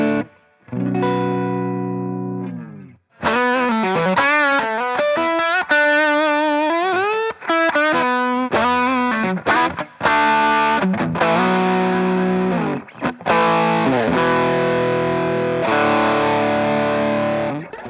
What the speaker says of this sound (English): So that's a Tube Screamer sound with humbuckers